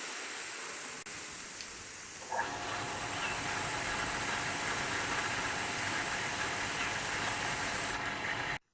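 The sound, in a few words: 900-watt electric water pump motor running automatically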